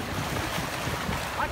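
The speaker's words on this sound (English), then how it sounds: "I got big waves right here." Big ocean waves at night wash and surge steadily, close by, with heavy wind buffeting the microphone throughout.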